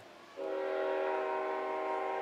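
A train passes near an evening baseball game, its horn starting suddenly and sounding a steady, sustained chord at a distance over low background rumble.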